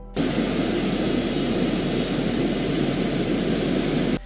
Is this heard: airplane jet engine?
yes